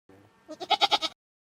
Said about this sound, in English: Yet, today, he has about 10 goats in his pen.